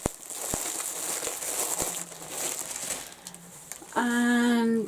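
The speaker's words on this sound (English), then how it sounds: "I apologise for the crinkle." Cellophane bags around skeins of yarn crinkle and crackle in close, irregular bursts, with a louder sustained rustle near the end.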